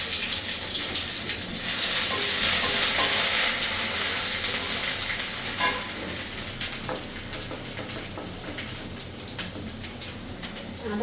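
Raw ginger frying in oil in a pan for a lentil and fish-head dish: a loud, dense, continuous hiss of sizzling close by, easing slightly over time with occasional stirring scrapes, no talk heard.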